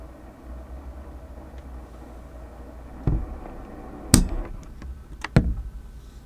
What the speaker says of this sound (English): one of the main concerns about the G85 is the fact that it had really strong sensor stabilization noise